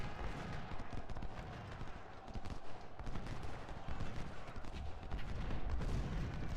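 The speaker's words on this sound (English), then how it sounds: "I'm going to go ahead and charge our cavalry into the rear of this artillery." Cavalry charging in the Civil War strategy game Ultimate General: Civil War, a dense continuous rumble of massed hoofbeats mixed with scattered gunfire and artillery, steady and building slightly louder toward the end.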